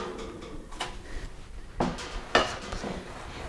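Metal pans come out of a kitchen oven with a few quiet clanks and a rattling slide, one sharper knock standing out among soft handling noises.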